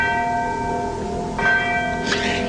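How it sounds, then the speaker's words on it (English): A bell at Ham Castle in Scotland rings out with a sustained metallic tone and ringing overtones, struck again partway through so fresh strikes layer over the fading hum, fairly loud and close with no talk. "And then there's this bell."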